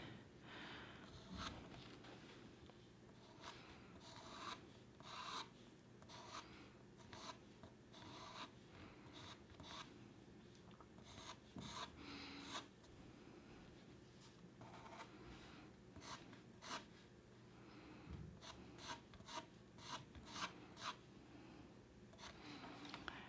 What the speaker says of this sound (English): I twist the pencil and wiggle it around.